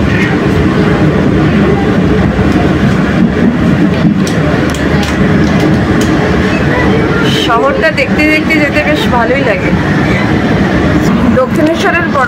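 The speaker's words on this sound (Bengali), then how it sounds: "ঢুকে গেল আমাদের মেট্রো বরানগর রোড স্টেশন।" A Kolkata Blue Line metro train runs toward Baranagar Road station with a loud, continuous rumble and rattle. A person talks over the steady noise, and squealing tones come through near the end.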